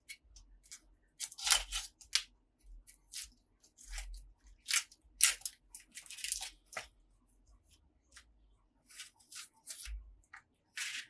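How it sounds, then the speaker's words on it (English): Close, crisp papery crackles and snips come in irregular bursts as dry onion skin is peeled away by hand, with quiet pauses between them and no talking. "I'm going to put some onion. And peel off my onion."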